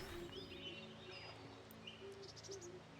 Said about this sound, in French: Oh, un oiseau.